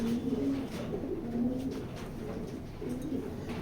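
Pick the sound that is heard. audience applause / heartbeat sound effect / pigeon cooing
pigeon cooing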